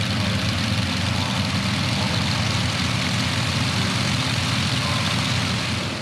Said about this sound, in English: A pylon air race between perennial rivals, the Russian Yak-52s and Chinese Nanchang CJ-6s.